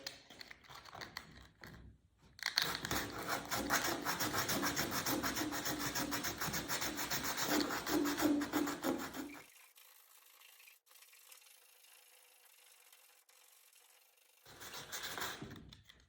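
Coarse rasping of 80-grit sandpaper worked by hand over a wooden canoe hull, a steady near scrubbing for several seconds, then a quieter lull before the rubbing briefly resumes at the end.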